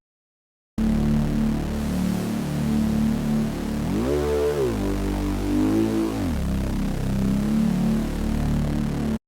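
A sustained Serum synthesizer tone with a broad analog-style hiss layered underneath, its pitch sliding up and back down midway through before settling again.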